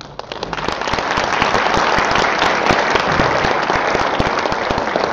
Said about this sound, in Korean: Please give him a loud big hand.